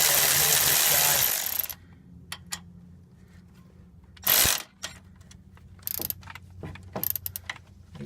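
An electric ratchet turning a 13 mm socket on a brake bolt of an OBS GM 8-lug K truck front disc brake, a loud whirring burst at the start, then shorter mechanical bursts and clicks with quiet gaps.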